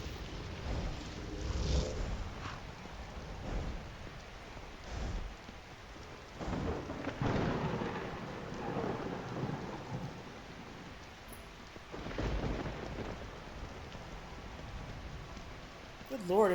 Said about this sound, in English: Lightning strike right before us.